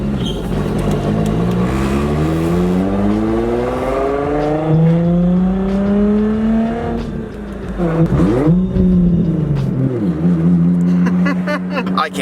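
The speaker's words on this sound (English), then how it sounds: "This is officially the final drive we will have with the V6." A Nissan 350Z with its V6 engine drives, revving up through gears with rising harmonic engine tones, then shifting and easing off, loud and close from inside the car, with voices at times.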